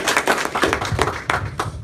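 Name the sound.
audience applause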